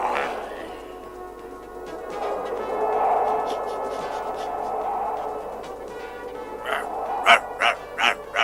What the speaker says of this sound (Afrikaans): Rattan is 'n Kanadese hond